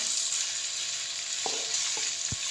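Onions fry in ghee in a kadhai over a low flame, giving a steady, close sizzle with a few soft clinks of a stirring spoon and no talking.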